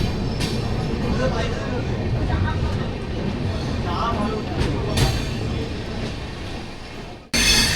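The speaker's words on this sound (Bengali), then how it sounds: "এক্স্যাক্টলি 10:10 এ গাড়ি কিন্তু ছাড়লো এখন এই পুরী স্টেশনের 4 নম্বর প্ল্যাটফর্ম থেকে" The Puri–Shalimar express pulls out of platform 4 at Puri station, a continuous low rumble of rolling wagons and rail noise with occasional clanks, under steady platform and carriage chatter.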